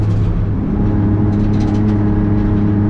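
A racing car accelerates hard on a track, its engine a loud, steady close-up roar with a dense low rumble and no break from start to finish.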